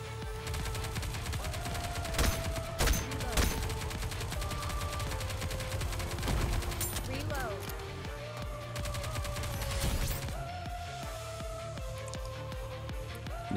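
Rapid gunfire in NIKKE Goddess of Victory: sustained bursts of automatic shots and crackling volleys, loud and continuous over an energetic music track, with sharper shot peaks scattered across.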